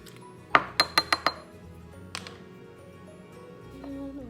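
Spoon clinking against a dish while cumin is stirred into brown rice for a taco bowl: a quick burst of five bright metallic clinks, a lone clink a moment later, then quiet rustling.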